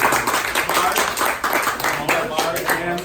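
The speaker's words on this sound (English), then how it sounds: "how about a nice round of applause?" An audience claps in a lively, uneven round of applause, the claps coming in bursts over speech and crowd noise throughout.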